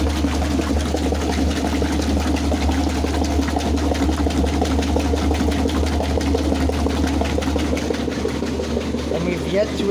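A Frigidaire Rollermatic washing machine runs a wash cycle, giving a steady, loud motor hum and churning drone throughout, with people talking over it.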